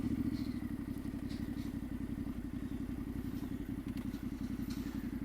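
A Yamaha T7 motorcycle on Dunlop D605 tires rides a dirt road, its engine a steady, close, pulsing low rumble with faint gravel clatter and wind beneath, no voices.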